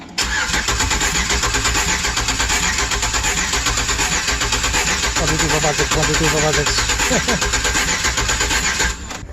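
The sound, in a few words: V8 engine cranking and starting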